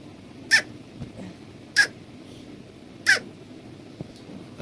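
A human voice imitates a heron's call with three short, sharp, high squawks spaced just over a second apart, loud and close over quiet background.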